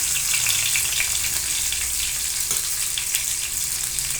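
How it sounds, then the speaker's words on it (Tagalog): Onions frying in a pan for squid adobo, a loud, steady sizzle that runs unbroken and close throughout, with no talking. "Papulahin din natin yung sibuyas guys para magbango."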